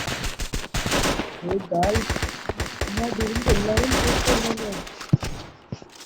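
A shooter video game fills the scene with rapid bursts of automatic gunfire and sharp single shots, close and loud, while a voice talks over the action.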